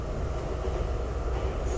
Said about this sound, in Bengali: নিস্তেজ শরীরে রাতের ট্রেনে চেপে বসলো সঞ্চিতা।